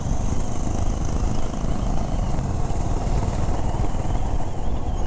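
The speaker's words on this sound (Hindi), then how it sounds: "इतनी सारी होंडा का एक साथ फायरिंग, एग्जॉस्ट नोट सुन के सबका बहुत अच्छा लगता है" Several Honda CB 350 RS motorcycles run together on a Sunday group ride, their exhaust notes blending into a loud, dense, continuous rumble close by with no break.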